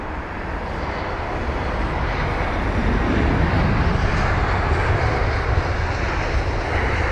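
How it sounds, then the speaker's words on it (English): A 13-year-old British Airways Airbus A320-200 arriving at London Heathrow, its loud broadband engine roar swelling and holding steady as the jet passes close, with wind buffeting the microphone. "the British Airways A320-200 with the Reg Golf Echo Uniform Yankee Hotel, or GEUIH"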